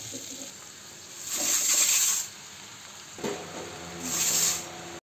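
Chowmein noodles with fried vegetables sizzle in a kadai over a low gas flame, the frying hiss swelling in two bursts as they are stirred, with soft scraping and clinking between.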